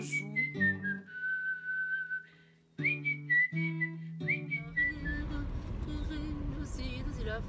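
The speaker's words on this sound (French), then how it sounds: "je siffle, je joue" A person whistles a melodic tune in clear sustained notes with short phrases and pauses, later joined by louder broadband accompaniment underneath.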